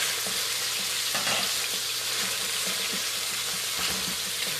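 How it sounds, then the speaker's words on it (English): Ninja Turtle soup is gently stirred in a pot over a steady sizzling hiss, with soft repeated scrapes faintly audible beneath the constant background noise. "Oh, just very gently stir."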